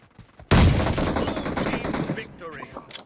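Loud, close sniper gunfire in the PUBG Mobile video game: a sharp shot crack followed by a long reverberating tail, then brief fainter game sounds, with voices audible in the background.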